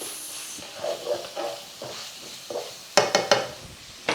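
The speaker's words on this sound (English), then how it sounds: "give that a bit of a stir so that we've got all of the flavours combining" Pad Thai ingredients stirred in a hot pan: a continuous sizzle with irregular scraping strokes, then a quick run of sharper utensil knocks against the pan near the end.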